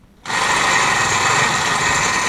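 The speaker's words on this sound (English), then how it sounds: "So this little Makita battery drill, it is mightier than the sum of its parts." A Makita cordless battery drill whirs at a steady, high-pitched, loud whine, starting abruptly after a brief quiet moment and running continuously without a break, drilling holes in cold weather.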